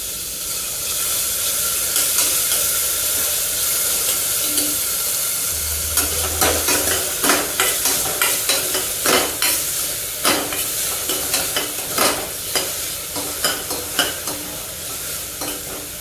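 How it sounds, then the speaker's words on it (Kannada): Chopped onion with homemade ginger-garlic paste sizzles in a pan for radish gravy, a steady frying hiss broken by scraping stirs that grow more frequent in the second half. "ಈಗ ನಾನು 1 ಈರುಳ್ಳಿನ ಕಟ್ ಮಾಡಿ ಇಟ್ಕೊಂಡಿದ್ದೀನಿ ಸಣ್ಣದಾಗಿ, ಅದನ್ನು ಹಾಕ್ಕೊಳ್ತಾ ಇದ್ದೀನಿ"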